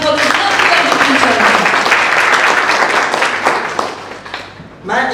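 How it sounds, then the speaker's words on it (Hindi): Loud, sustained applause from an audience that carries on for several seconds and then fades, with a voice starting to talk again at the end. "तो प्लीज एक और बार जोरदार तालियां हो जाए फॉर द फ्यूचर"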